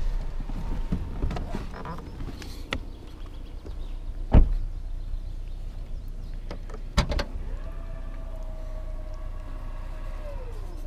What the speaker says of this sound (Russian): Пятая дверь с электроприводом.